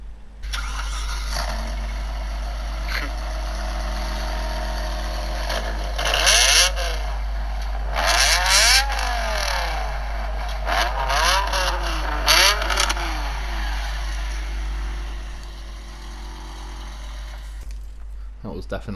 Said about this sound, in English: that was my M5 recorded on a phone and then played on a phone to my headset just now